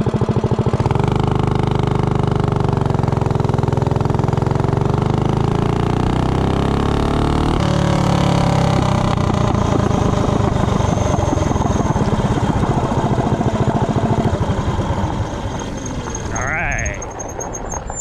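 Doodlebug minibike with a 15-tooth clutch on a 0 to 30 acceleration run: a small engine revs up with rising pitch, then holds a steady drone as it pulls away and fades slightly at the end, with voices over it.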